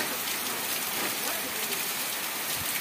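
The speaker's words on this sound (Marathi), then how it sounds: "खूप जोराचा पाऊस आलेला आहे" Heavy sudden downpour at a rural home, a dense, loud, steady hiss of rain pounding surfaces all around, with faint voices underneath.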